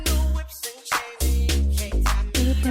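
A song's bass line, said to closely resemble another song, played as a loud, punchy synth-bass riff of short repeated notes in a bouncing up-and-down pattern with brief gaps, alone and without talk.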